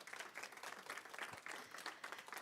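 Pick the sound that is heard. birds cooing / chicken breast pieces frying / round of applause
round of applause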